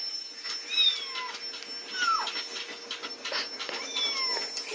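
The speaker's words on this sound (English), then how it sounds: "Oh, I hear kitty." A cat meows several times at a moderate distance, the cries rising and falling in pitch over a faint, steady background hum.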